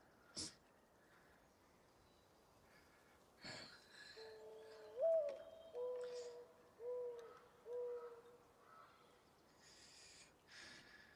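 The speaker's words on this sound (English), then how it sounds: "Oh, the bird, the wind." Soft hooting bird calls repeat several times over a quiet, airy wind-like ambience in a God of War forest, with a few brief clicks and chimes scattered through.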